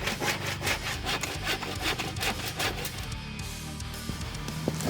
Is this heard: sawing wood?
yes